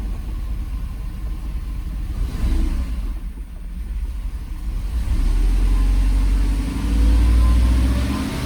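A Mercedes R129 engine runs unevenly, close and loud, its rumble swelling in surges and dropping back as if misfiring or hunting for idle, with no voices over it.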